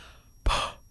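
A single breathy, raspy rush from a human voice imitating a fart like heavy masked breathing, rising abruptly mid-clip and trailing off over about a third of a second, close and alone.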